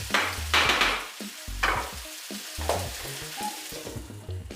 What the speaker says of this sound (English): So the pumpkin has been sizzling away to this heat